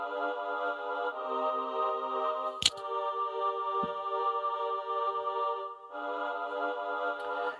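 A sustained choir pad is sidechained against keys in a heartbreak-style beat, its chords swelling and dipping rhythmically while a brief click cuts through; no one speaks.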